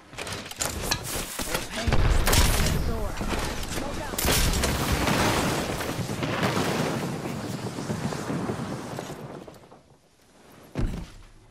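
In Apex Legends on PS4 Pro, an arc star grenade is thrown and detonates amid dense, loud combat noise with booms, gunfire and crackling bursts, then a sharp final thump as things quiet down.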